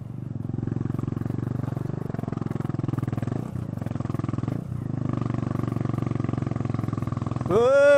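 A motorcycle with a newly replaced exhaust pipe running on the road, a steady low, throbbing engine drone with a fast pulsing rhythm, close by, ending with a brief rising tonal sweep.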